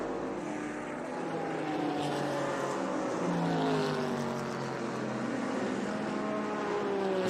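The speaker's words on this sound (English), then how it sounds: "Just want to let them roar by our position and let you hear that sound." Historic Porsche race cars roar past during a race at the Monterey Reunion, engines rising and sweeping by in a loud sustained pass with shifting pitch, no voices over it.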